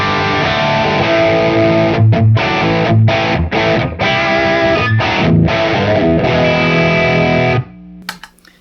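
An electric guitar runs through stacked Euphoria and Tumnus overdrive pedals, giving loud, thick, distorted chords that ring in bursts with brief stops between them, then cut off near the end.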